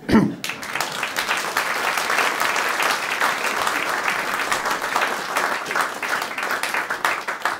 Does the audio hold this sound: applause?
yes